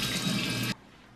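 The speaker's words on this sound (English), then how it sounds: "and then you just rinse it off in the water." Tap water running into a sink while a face is rinsed, a steady bright gush that stops abruptly after less than a second.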